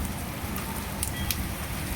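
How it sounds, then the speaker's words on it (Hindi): Heavy monsoon-style rain falls steadily in a residential lane, a dense, even hiss of drops on surfaces with a few sharper splashes, moderately loud and constant with no talking. "ये देखो कितनी तेज बारिश हो चुकी है"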